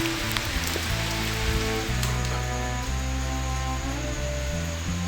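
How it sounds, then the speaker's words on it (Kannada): Steady rain falls around an old Shiva temple in Karnataka, a dense, continuous hiss of drops on hard surfaces with no voices, broken only by a few brief louder spatters. "ಮಳೆ ಬರ್ತಿದೆ ಇಲ್ಲಂತೂ ವಾವ್"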